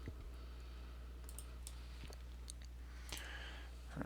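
Keys of a computer keyboard clicked while entering a polynomial answer in an online math assignment, a sparse run of light taps over a steady low hum, with no voices.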